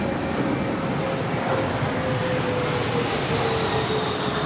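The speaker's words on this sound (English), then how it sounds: "Qantas Link 717 departing runway 16 right there." A QantasLink Boeing 717 jet departs runway 16 right at Sydney Airport, a steady broad engine roar heard from a distance with no voices.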